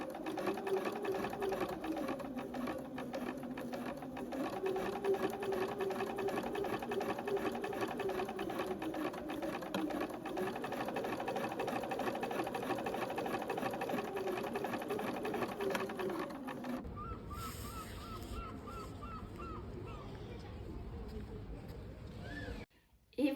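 A sewing machine runs steadily for a long stretch while stitching a 2 cm hem 2 mm from the edge with a lengthened 3.5 stitch, a continuous whirring hum close by, before it stops and leaves quieter handling sounds.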